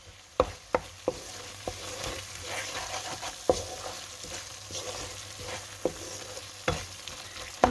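A tomato rice mixture with two teaspoons of tamarind simmers in a pan. A quiet, continuous bubbling sizzle is broken by scattered sharp taps and clicks of a spoon against the pan, close up.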